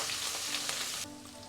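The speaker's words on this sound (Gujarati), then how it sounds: "બધું આ તેલમાં જ એકદમ સાતડી લેવાનું છે." Curry leaves, ginger and chillies hiss in hot oil for a brief moment, a bright steady sizzle that drops off sharply near the end, with no talking.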